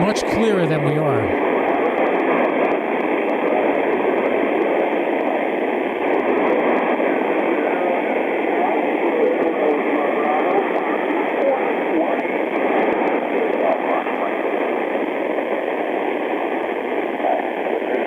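Weak HF ham radio signal received on a Yaesu FTDX-10 transceiver: a continuous loud hiss of band noise with a faint, muffled voice buried underneath, steady throughout, briefly opening with a rising tuning squeal.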